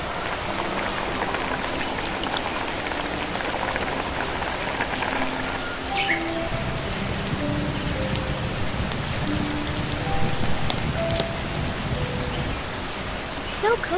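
Steady rain falls outside during a storm, a constant close hiss of drops on surfaces with faint tonal sounds drifting through, no pause across the whole stretch.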